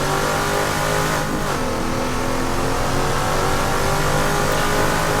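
A race car engine from a 1971 IMSA Daytona race in Assetto Corsa holds a loud, sustained mid-pitched roar, revving steadily with small shifts in pitch and no talk over it.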